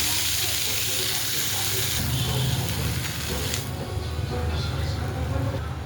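Thalipeeth, a Marathi flatbread made with garlic and chilli, sizzles on a hot pan with a steady broadband hiss. The sizzle shifts slightly midway as the bread settles, and a quiet voice talks underneath.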